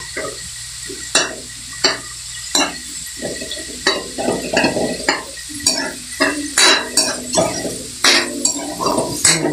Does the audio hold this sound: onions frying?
yes